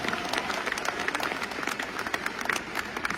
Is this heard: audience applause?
yes